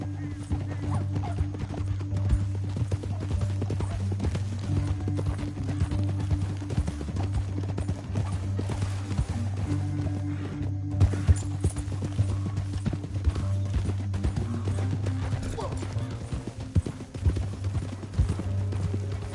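Horses' hooves clip-clop steadily on the ground amid a low, busy rumble, with an occasional whinny and faint voices in the background.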